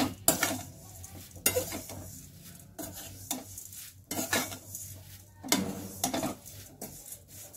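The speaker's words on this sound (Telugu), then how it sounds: "కట్ట పట్టుకొని ఇలా వేయించుకుంటూ ఉండాలి." Flattened rice poha is stirred and fried in a thick kadai, with repeated close scraping and clinking of a utensil against the pan over a soft sizzle, in an irregular rhythm and without talk.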